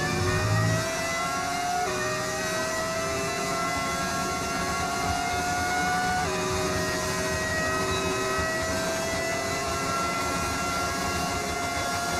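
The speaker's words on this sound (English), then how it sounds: "Car sounds different" A Formula 1 race car engine in the video game F1 25 holds a loud, steady high-pitched whine that climbs in pitch in stages, with a couple of gear-change drops, running continuously with no talk.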